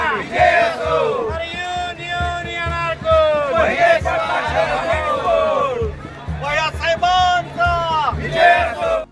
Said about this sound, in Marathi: उत्तराखंडमध्ये धैर्यशील मोहिते पाटील समर्थकांनी केला विजयी जल्लोष